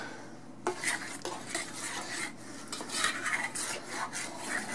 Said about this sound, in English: Scrape those sides down, scrape the bottom. Make sure I get all that chocolate incorporated with the egg mixture and the vanilla.